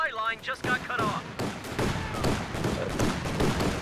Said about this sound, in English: Having a very good first barrage there.